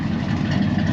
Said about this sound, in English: come back and hear that great sound of that dual exhaust